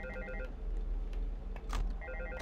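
Telephone ringing in the Five Nights at Freddy's 2 video game, two bursts of trilling ring, quiet against a low background hum, one at the start and another near the end.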